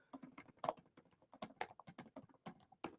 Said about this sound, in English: I'm just typing it in the chat here for you.